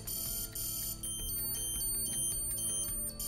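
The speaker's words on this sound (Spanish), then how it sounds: "producirá este ruido tan molesto y nos avisará en el móvil de que se ha activado la alarma" A shrill electronic anti-theft alarm from a Garmin Edge 530 bike computer beeps in a rapid repeating pattern, loud and continuous, with no voices.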